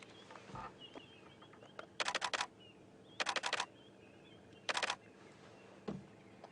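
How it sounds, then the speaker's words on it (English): Camera shutter firing in quick bursts of several rapid clicks, three bursts with a single click at the end, close and crisp over a quiet outdoor background during a morning safari drive at a game reserve. "So if you hear that clicking, sorry guys, it's just my camera taking a few photographs."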